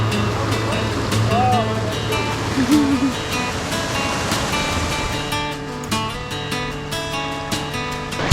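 The Dull Huntley River rushes past in a steady broad wash under someone talking, water noise constant throughout.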